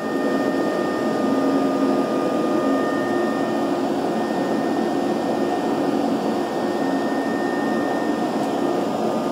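A rotary tool with a fine sandpaper roll ports the exhaust ports of a VW 1.8t 20v cylinder head, giving a loud, unbroken high-pitched whine with a gritty sanding rasp, held steady throughout.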